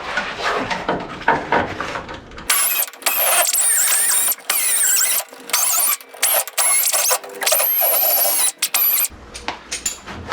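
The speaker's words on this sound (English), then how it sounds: "air grinder time" A pneumatic air grinder works on a VW Baja Bug during a bus transmission swap, whining loud and close in repeated bursts of several seconds with short gaps, while clanks and shop noise sound before and after.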